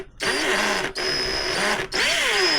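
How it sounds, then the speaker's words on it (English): A power drill bores out a hinge pin hole on a Traxxas X-MAXX RC truck, running steadily and close in three long whirring bursts with brief pauses between them, no talking. "So I gotta grab my drill."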